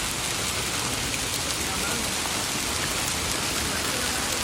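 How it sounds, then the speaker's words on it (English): Heavy hail pours down in Greeley as fast and thick as rain, a dense, steady roar of pelting ice that stays loud and unbroken throughout. "It's literally raining hail. Instead of rain, it's like falling as fast and as much as rain."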